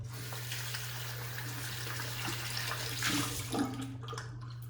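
Running water from a sink tap while shaving soap is rinsed off, a steady moderate splash over a low hum, with a few louder gushes near the end.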